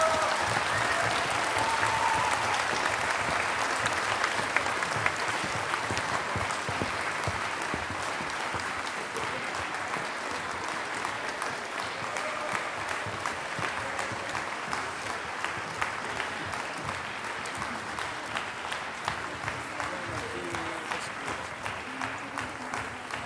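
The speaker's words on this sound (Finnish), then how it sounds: "annetaan suuret aplodit sekä laulajille että kuorien johtajille ja orkesterin" A large concert audience applauds singers, choir conductors and the orchestra at a Finnish choral evening concert, with steady, dense clapping that carries on for over twenty seconds and eases slightly toward the end.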